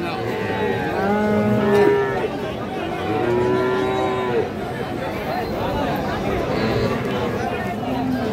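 Friesian and crossbred heifer calves and other cattle at a market in Raniganj moo several times, the drawn-out lows rising and falling close by while people talk and bargain in the background.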